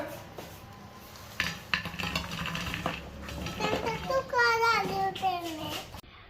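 Crispy homemade French fries are tipped from the pan onto a plate, giving scattered clinks, scrapes and light clatter of utensils and dishes, with a voice rising near the end.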